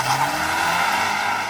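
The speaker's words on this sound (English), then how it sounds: "Left foot on the brake, launch control activated." A new four-wheel-drive Mini Countryman pulls away hard from a launch-control start with a brief bit of wheel spin, its engine roaring loud and steady as it accelerates.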